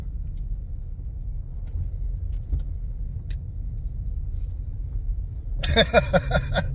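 A car cruises along with a steady low engine rumble heard from inside the cabin, a constant drone with faint rattles, broken near the end by a brief burst of brighter noise.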